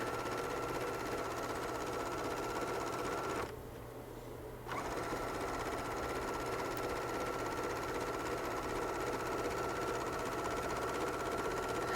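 Sewing machine top stitching along the pockets of a pullover hoodie, a steady mechanical whir running almost throughout with a brief pause in the middle before it resumes.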